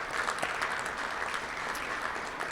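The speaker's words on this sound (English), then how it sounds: "And let's give them a round of applause." Sustained applause from a Rotary club meeting audience, an even, dense clatter of many hands clapping throughout.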